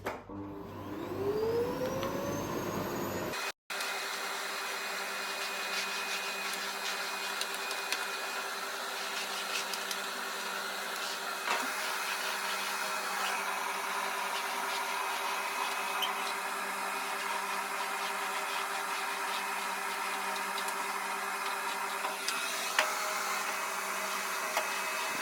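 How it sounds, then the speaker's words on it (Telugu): A work machine in Kuwait is switched on. A short rising whir and a click give way to a loud, steady droning whine with high tones, which runs on unbroken for over twenty seconds with no voices. "మిషన్ ఆన్ చేస్తే సౌండ్ ఎక్కువ వస్తుంది"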